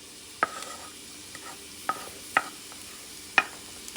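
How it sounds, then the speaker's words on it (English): Garlic added to a sizzling mirepoix for a French-style lamb stew, with a low continuous frying hiss and a few sharp spoon-on-pot scrapes and knocks spaced about a second apart as it is stirred. "Adding the garlic to the mirepoix. Mix things up."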